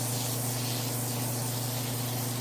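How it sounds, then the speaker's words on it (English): An olive oil pump sprayer mists a pan in one continuous, steady hiss lasting a couple of seconds, close and even, with a low hum underneath. "I'm just gonna spray my pan"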